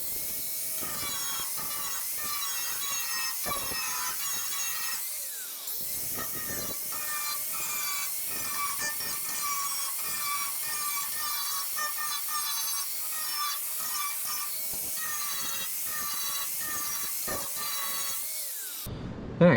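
Cutting tools bite into the metal of a 1972 VW Beetle spare tire well, a loud, high screeching whine that runs almost continuously with brief breaks, then ends in a sudden sharp clatter.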